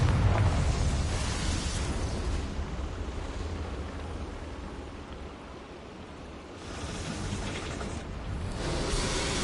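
A Confringo fire spell explodes in the video game Hogwarts Legacy, a loud sustained rumbling blast that dips briefly before a second surge of roaring noise, with no voices present.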